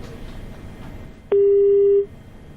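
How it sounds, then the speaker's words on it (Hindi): After a phone call drops, a single loud, steady telephone busy tone sounds for under a second above faint background noise. "संपर्क कट गया है और हम दोबारा जोड़ने की कोशिश करेंगे आशीष भार्गव से।"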